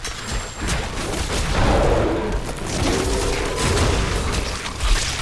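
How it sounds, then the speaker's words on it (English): Dense, rumbling bursts of explosions and gunfire-like booms overlap continuously in a Diablo 4 dungeon, loud and chaotic like a battle scene. "Gotta watch out for those explosions though."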